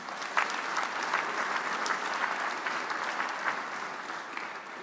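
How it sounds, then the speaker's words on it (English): Lunch audience at a Toronto mayoral address gives a round of applause for Ontario, a sustained, even wash of many hands clapping at moderate volume, with no speech over it. "Give a round of applause for Ontario."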